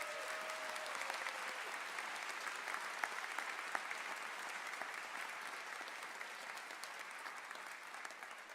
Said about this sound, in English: Let's give all of those individuals a round of applause